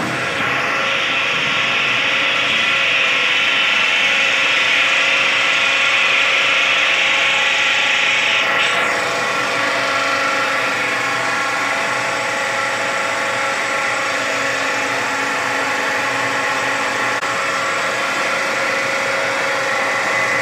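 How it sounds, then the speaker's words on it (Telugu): Electric motor started from a green button on a starter box, a steady loud mechanical whirr with a high whine and a ratcheting texture running continuously, with a brief sweeping shift around the middle. "ప్రెస్ చేసిన వెంటనే మోటార్ అక్కడ ఆన్ అయింది"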